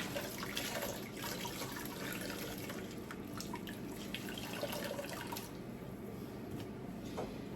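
Tap water runs steadily into a bathroom sink during rinsing, a continuous close splashing hiss with small drips and no voices.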